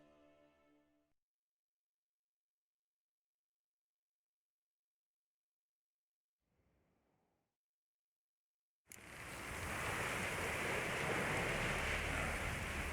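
Steady rain from The Witcher III: Wild Hunt, arriving abruptly as a dense broadband hiss of falling water. It follows near-silence broken by a brief faint stir, then holds loud and continuous until the end.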